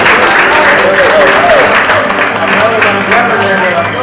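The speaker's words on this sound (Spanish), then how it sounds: "el aplauso para Carlos" Sustained applause from an audience at a family celebration, a dense wash of hand claps that runs continuously at a fairly loud level, with a voice speaking faintly beneath it.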